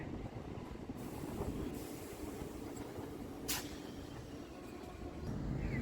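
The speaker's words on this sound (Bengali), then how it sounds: "ব্যারাকপুর ঢোকার আগে আমাদের ট্রেনটা দাঁড় করিয়ে দিল" A Sealdah–Barrackpore local train held at a signal before Barrackpore, a quiet low rumble of the stationary carriage with faint distant rail noise and a brief hiss, heard from the open doorway.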